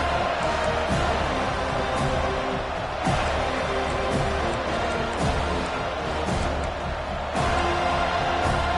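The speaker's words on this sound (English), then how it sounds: "This crowd bringing an ear-splitting welcome to their visitors." A home college football stadium crowd roars continuously in a loud, sustained wall of cheering, with surges and rhythmic thumps.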